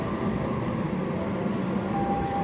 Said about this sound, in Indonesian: barusan masuk adalah kereta api Argo Cirebon dari Jakarta Gambir tujuan akhir